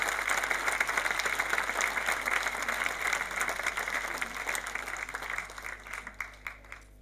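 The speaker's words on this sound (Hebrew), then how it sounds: "בואו ניתן להם שוב מחיאות כפיים סוערות על שירת תם היפה" Loud, sustained applause from an audience for a young children's choir, dense clapping that fills the room before gradually thinning and fading out toward the end.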